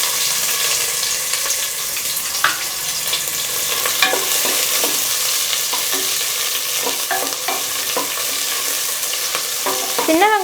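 About 25 finely chopped small onions frying in a pan for mutton kurma: a loud continuous sizzle with repeated scraping and clattering as a spoon stirs them, no voices.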